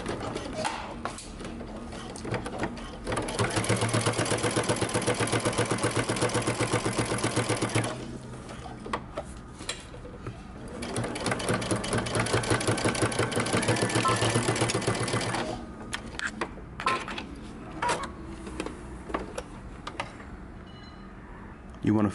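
A sewing machine stitches darts on a beanie, its rapid motor whir running in two long bursts with pauses between them, while a person talks over it.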